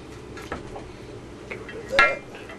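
A cooked pork loin is lifted out of a cooking pan onto a plate, giving a few soft clinks and scrapes of metal and dishware, with one louder clink near the end.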